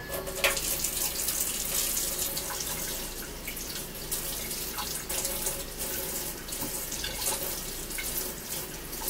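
Tap water runs steadily from a faucet while hair is being rinsed, a close, continuous splashing hiss with small spatters and drips and no talk.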